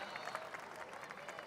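Applause from a crowd at a squash match, a steady patter of many hands, fairly faint and distant, continuing without a break through the short moment.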